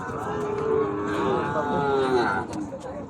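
A Sahiwal bull calf at a cattle market in Joypurhat gives one long, loud, close moo that swells and then trails off.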